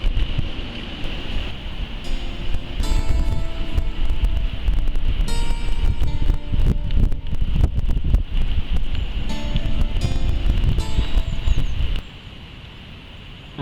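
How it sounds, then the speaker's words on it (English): Strong spring wind at a lakeside carp fishery buffets the microphone with loud, continuous roaring and rustling, then drops off sharply near the end. "It's really windy, so sorry about that."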